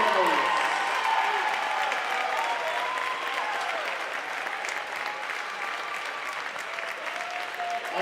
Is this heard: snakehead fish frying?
no